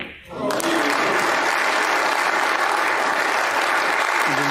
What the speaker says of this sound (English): the crowd appreciating the skill that Zhang Anda is showing here.